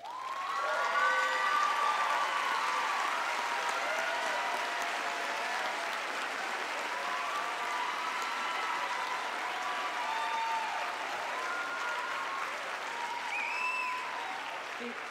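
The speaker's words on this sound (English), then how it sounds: "please stand for a special round of applause" Sustained applause fills a commencement ceremony as Phi Theta Kappa honor society members stand, a broad wash of clapping from a large crowd holding steady throughout with faint voices mixed in.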